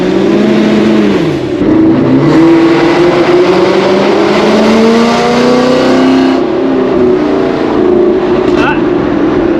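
A loud Ford Coyote V8 in an S550 Mustang revs and roars close by, pitch rising and falling through several throttle sweeps.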